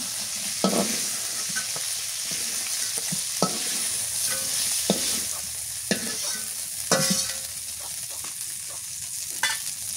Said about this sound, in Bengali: ভাজা হয়ে গেছে, হালকা করে ভেজে নিলাম